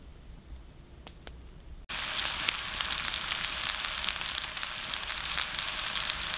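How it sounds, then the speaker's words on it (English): Burgers begin frying over campfire embers, a soft crackle giving way to a steady, full sizzle that continues without pause at close range. "Finally got the burgers on the go."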